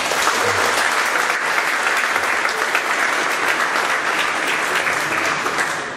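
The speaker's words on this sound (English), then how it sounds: "So give him a round of applause." Loud, dense audience applause greeting a speaker at a gadgets talk, sustained evenly for several seconds before easing slightly at the close.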